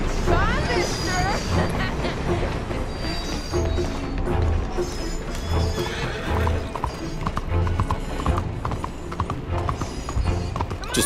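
A horse in Red Dead Redemption 2 gallops with rapid rhythmic clip-clop hoofbeats and loud whinnies, mixed with background game sounds and voices talking.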